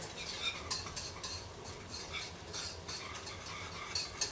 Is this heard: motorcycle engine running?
no